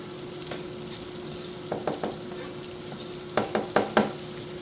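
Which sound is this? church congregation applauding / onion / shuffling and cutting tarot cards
onion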